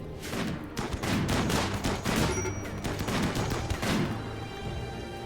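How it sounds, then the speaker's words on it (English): Doomsday rocket launcher firing in the RimWorld video game, a rapid volley of loud overlapping blasts and booms lasting several seconds, dense and explosive, then easing off toward the end. "there goes one of 3 Doomsday Launchers"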